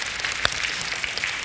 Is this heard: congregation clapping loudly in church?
yes